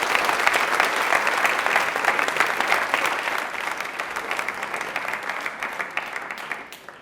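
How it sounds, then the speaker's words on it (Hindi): Studio audience at a televised Rajasthani quiz show breaks into loud, sustained applause, a thick wash of many clapping hands that holds strongly before gradually thinning and fading toward the end. "तो तालियां जोरों से बजाइए भाई"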